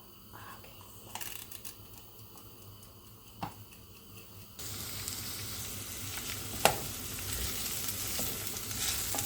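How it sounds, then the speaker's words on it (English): Onions sizzling and frying in a pan, a steady crackling hiss that becomes louder and denser halfway through, with occasional sharp ticks and pops from the pan; no talking. "I love that smell of the onions frying."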